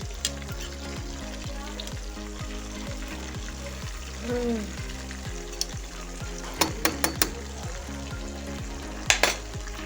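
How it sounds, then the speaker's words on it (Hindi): Fish sizzles steadily in hot oil in a home kitchen pan, a continuous close crackle with a few sharper clinks and spatters breaking through; no one speaks. "तो बस अब ये मछली फ्राई हो रही है मेरी अभी"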